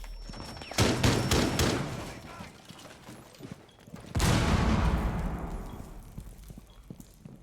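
Rapid in-game gunfire from the tactical shooter Rainbow Six crackles in a dense burst of shots, pauses briefly, then a louder nearby blast rings out and fades slowly.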